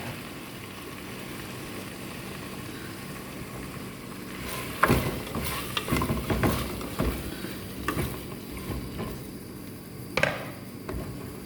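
Prawns hit hot fried spice paste in a yogurt prawn bhuna, giving a sudden burst of sizzling and frying crackle that swells, settles into steady hissing with a few stirring knocks, then flares again briefly near the end.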